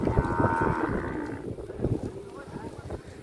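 A Khillar bull moos long and loud at close range, then quieter lows follow amid background crowd noise at a village fair.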